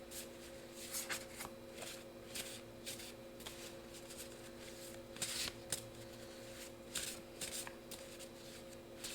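Tarot cards shuffled by hand at steady pace, a continuous soft papery rustle with repeated sharper flicks and slaps, over a constant low electrical hum.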